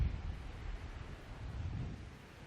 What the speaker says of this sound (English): A little bit windy over this side.